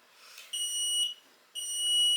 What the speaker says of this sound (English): Once it's done charging, it'll beep at you.